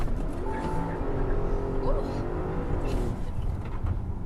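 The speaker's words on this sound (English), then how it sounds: "That was launch control in the RS7" An Audi RS7 launches hard under launch control, its engine roaring and rising through gears from inside the cabin, loud and close, with voices talking over it.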